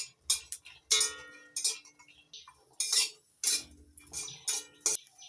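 Garlic cloves and green chillies stirred and dry-fried in an empty pan, with repeated metallic scrapes and clinks of a utensil against the pan in irregular bursts, close and fairly quiet.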